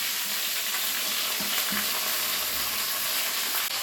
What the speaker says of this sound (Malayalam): ഇനി നമുക്ക് ആദ്യം കോവയ്ക്ക ഇട്ട് കൊടുക്കാം.